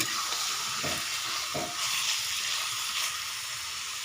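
Chicken curry with potatoes sizzles steadily in a pan while a spoon pushes through it, adding a few brief scraping strokes over the constant frying hiss.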